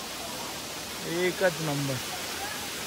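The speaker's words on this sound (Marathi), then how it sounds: "बघू शकता माझ्या मागे धबधबा." A small waterfall near a village in Kudpan, Poladpur, in the Konkan, with steady broadband rushing running throughout, moderately loud. A voice speaks briefly over the falling water partway through.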